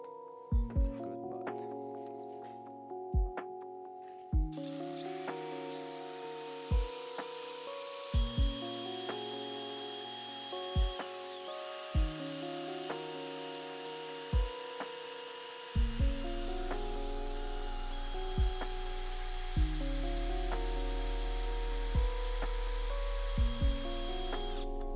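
Power drill boring holes for a car's front sway bar fitting, with repeated sharp bursts of whirring and grinding separated by pauses, ending in a longer sustained run; close and loud, no talking.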